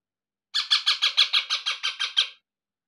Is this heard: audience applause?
no